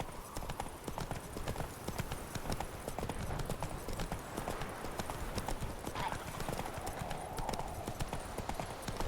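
In the Witcher 3 video game, the hooves of the horse Roach clip-clop in a steady, brisk rhythm, quiet and close, with faint game ambience behind them.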